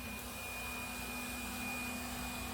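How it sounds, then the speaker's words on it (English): A household vacuum cleaner runs with a steady, continuous whine and broadband roar, close by and unchanging, with no talking over it. "Oh, there's my vacuum cleaner."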